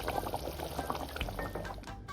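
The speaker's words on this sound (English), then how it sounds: "Remove it from the heat and pour on top of your short ribs." A thickened cornstarch-style slurry is poured from a pan over cooked short ribs, a soft, steady liquid pour with light splashing, close and continuous for about two seconds.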